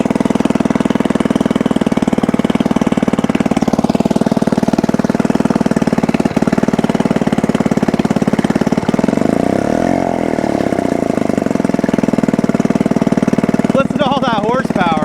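Old outboard boat motor running steadily nearby with a rough, knocking, chattering idle and a brief rise in pitch partway through; voices talk over it.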